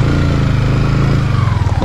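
Motorcycle engines idle and rumble steadily nearby in a parking area at a sulfuric hot spring in Davao de Oro, Philippines, a continuous low chugging throb with no talking.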